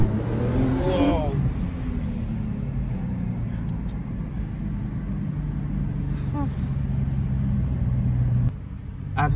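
Nissan GT-R R35 V6 engine revving, a loud steady engine roar with rising pitch sweeps early on and a gear change, continuous and close until it cuts off abruptly near the end.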